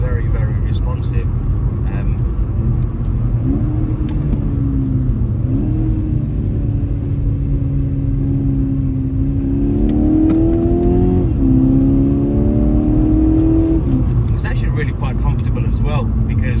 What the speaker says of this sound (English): I am absolutely shocked as to how this car performs on this road